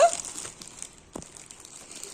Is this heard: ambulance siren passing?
no